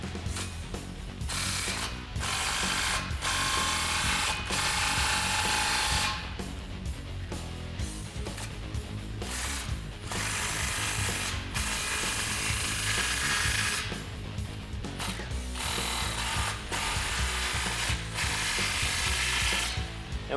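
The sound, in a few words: socket ratchet tightening exhaust clamps on Ford Raptor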